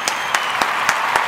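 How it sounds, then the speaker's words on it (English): Five sharp hand claps land in an even, steady rhythm about a quarter second apart, crisp and close over a light background hiss. "just clap it up one time for newborn free CHADE"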